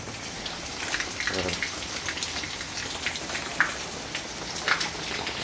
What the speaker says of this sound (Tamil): சரியான மழை பெய்யுது போல்